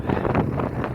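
Gusty wind buffets the microphone beside a moored boat in a short burst of broad, rumbling whoosh, loud and close with uneven pulses, with no speech audible.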